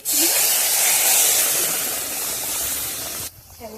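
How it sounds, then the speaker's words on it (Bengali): Boiled water poured into a pan of frying spices for shrimp curry, giving a loud, sustained hiss and sizzle that fills the pan for over three seconds before cutting off abruptly into quieter bubbling. "মশলাকে যেটা সিদ্ধ করা জল সেইটাই দিয়ে দিচ্ছি"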